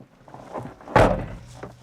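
A single heavy door of a Mosler MT900 sports car thuds shut, a solid close slam after a few quiet rustles, followed by a short fading resonance.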